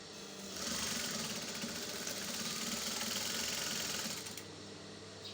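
A sewing machine stitches skirt panels of a faux wrap skirt at the waistline in one steady, fairly quiet whirring run of about four seconds, starting and stopping cleanly, with no voices.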